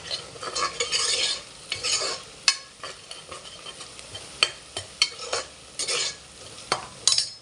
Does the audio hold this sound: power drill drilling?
no